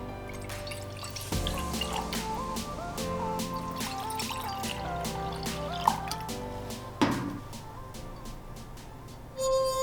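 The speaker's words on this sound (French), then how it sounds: "On dispose de 3 verres à pied que l'on va remplir plus ou moins d'eau." Water trickles and drips as three stemmed glasses are filled to different levels. Faint glassy ringing tones sound alongside the quiet pouring, and a brief louder splash comes at the end.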